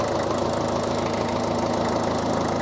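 Car engine idling at rest before pulling away, a steady close rumble with a faint rhythmic knock running through it and no voices.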